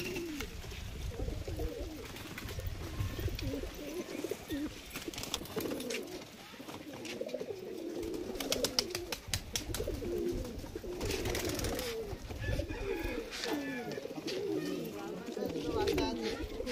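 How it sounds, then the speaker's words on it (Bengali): Kaldom pigeons from a breeder's collection of about twenty pairs, including baby pigeons, coo steadily and continuously in a close, busy loft, with people talking over them throughout. "সব পায়রা দেখতে পাচ্ছ, সব কালদুমের কালেকশন"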